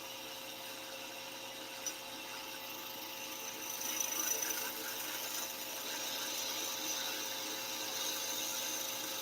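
A wood lathe spins a spindle while a skew chisel cuts it, giving a faint steady whirring hum with a light scraping rise midway, close and without speech.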